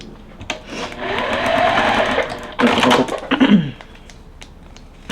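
A sewing machine stitches a quilt block seam in short, close bursts of whirring, with a pause between runs and a speeding-up and slowing-down pitch, and a voice faintly present.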